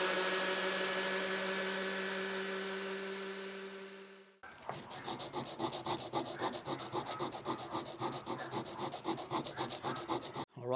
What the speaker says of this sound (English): I'm going to sand these down, and this is going to take a while. It's all going to be done by hand